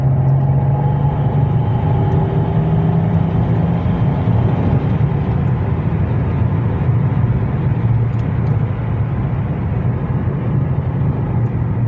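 Mercedes-Benz W204 C320 AMG with the M642 engine accelerating on the road, a loud steady low engine drone and road rumble heard from inside the car, with no talk.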